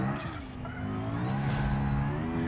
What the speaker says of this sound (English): It's a car.